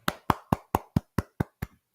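Eight sharp hand claps in a steady, even rhythm, close and crisp, with no voices between them, during a heated boxing press-conference rant.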